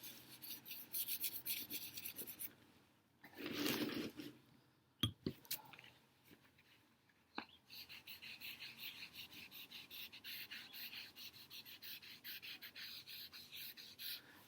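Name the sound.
rubbing charcoal on paper with a chamois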